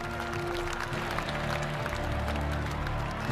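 A jubilant crowd outside the White House celebrating the Union victory, with dense, continuous cheering and applause rolling at a distance, sustained throughout.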